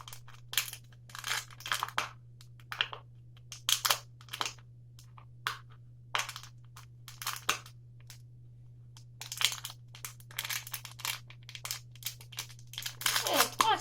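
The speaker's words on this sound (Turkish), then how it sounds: "şöyle raptiyelerle şu plastik şişemizin altına delikler açıyoruz" Thumbtacks are pushed through the bottom of a plastic bottle, giving short crinkling and crunching bursts of plastic separated by pauses, over a constant low electrical hum, with a voice talking between the bursts.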